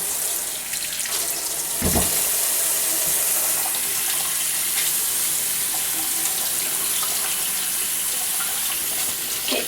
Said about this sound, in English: Right now, I'm going to wash my hands.